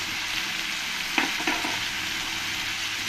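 Tomato paste with ground coriander, cumin and chilli powder fries in oil for parwal rosa, a steady close sizzle broken by two quick scraping stirs of the spoon.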